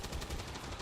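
Rapid gunfire in a tactical video game, a short burst of several quick repeated shots at moderate loudness, alone with no talking.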